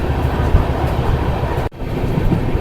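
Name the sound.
freight train crossing on Rajkot–Jamnagar electrified double track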